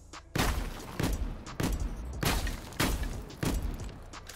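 A full-auto Streetsweeper shotgun fires aimed down sights in Warzone, six heavy, evenly spaced blasts about every half second, each a loud, sharp boom with a short decaying tail.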